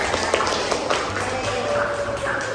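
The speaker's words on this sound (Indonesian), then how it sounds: "Terima kasih tepuk tangan untuk Mbak Aisyah, silakan duduk." Audience at a university discussion session giving dense, steady applause for a presenter, a continuous wash of many hands clapping in a room.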